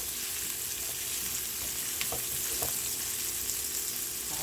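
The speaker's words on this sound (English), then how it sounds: "We're gonna let the onions start to cook" Onions sizzle steadily in a seasoned pan, a continuous close frying hiss with a few soft stirring clinks and no talking.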